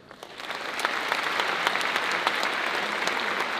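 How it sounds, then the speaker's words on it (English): Steady applause from an audience at an elementary school district opening day, honoring teachers and staff, dense clapping held at an even level throughout. "Give them a round of applause"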